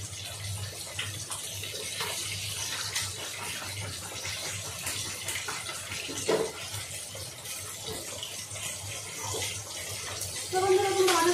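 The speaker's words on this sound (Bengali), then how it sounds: "এগুলোকে ধুয়ে নিই সব করে।" Potatoes rinsed under a running kitchen tap, a steady close splash and gush of water with hands rubbing and occasional knocks, a faint voice murmuring underneath.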